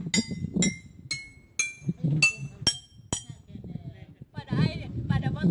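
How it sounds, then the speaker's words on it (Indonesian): Glass bottles holding different amounts of water are struck one after another, giving a series of bright ringing tones of differing pitch, with a low murmur of talk and handling underneath. "ketika media-media botol ini dipukul akan menghasilkan nada dan bunyi yang berbeda-beda karena pada botol-botol tersebut sudah terisi air yang berbeda"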